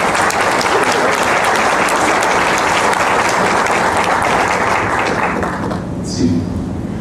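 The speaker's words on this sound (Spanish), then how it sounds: "para quien pido nuevamente un fuerte aplauso" Steady, full applause from an audience at a book presentation, dense clapping sustained for several seconds before tapering off near the end.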